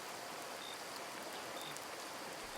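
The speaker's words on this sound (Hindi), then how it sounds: "तेज बरसात की बूंदें लगातार हमारे जिस्म पर गिर रही थी" Heavy rain falls steadily, a constant, fairly faint wash of hiss without breaks or voices.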